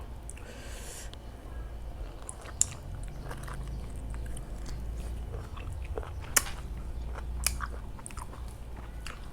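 Quiet, close chewing of geoduck clam with soft crunchy bites and occasional sharp clicks over a low background hum, no talking.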